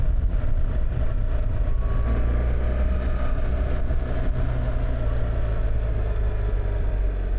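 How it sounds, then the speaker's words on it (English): The engine of a BMW R1300GS motorcycle runs with a steady, smooth low drone that holds constant throughout, close and fairly loud, with no talking. "I'm kind of on the fence about the sound of the bike."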